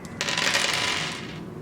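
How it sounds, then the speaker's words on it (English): Six dice for a submarine roll-and-write board game rattle and tumble together in a short, bright clattering burst that quickly settles. "And then I'll roll all 6 of my threat dice."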